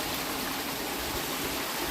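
Fresh water running in a stream in the Peak District, a steady broadband rushing and trickling that stays even and continuous, close to the microphone, with no voices.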